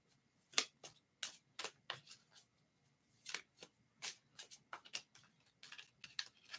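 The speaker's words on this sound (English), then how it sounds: "cards are shuffling all over the place" Tarot cards being shuffled by hand, a quick run of crisp flicks and soft slaps in an uneven rhythm. The sound is close but quiet, with no talking.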